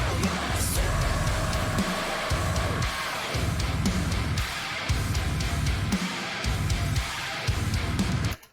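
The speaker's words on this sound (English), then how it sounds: "I'm assuming those are pick slides." Dense, heavily produced metal band mix with distorted guitars and pounding low end, pick slides scraping across the strings amid continuous loud music with brief dropouts.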